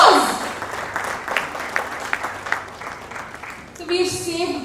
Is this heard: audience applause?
yes